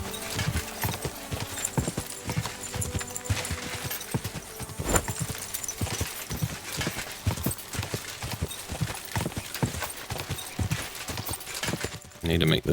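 Horse hooves in Kingdom Come: Deliverance II clop in a fast, steady gallop rhythm, loud and close, while someone talks over them in bursts.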